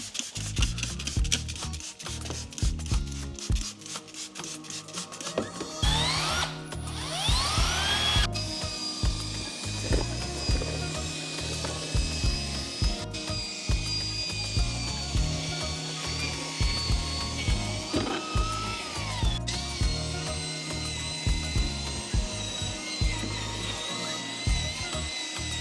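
A drill brush scrubs a non-foaming carpet cleaner into the carpet of a badly soiled car interior during detailing. The whirring, rubbing buzz is close and loud and runs steadily throughout, with no talking.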